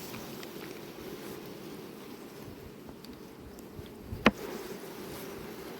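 Honeybees buzz faintly around a hive at an apiary, a soft continuous insect drone under light wind, broken by one short sharp click near the end.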